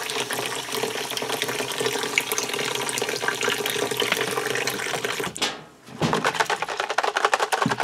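Warm water runs and splashes continuously as a bicycle chain is rinsed to remove packing grease, a dense steady wash that briefly drops out near the end before resuming.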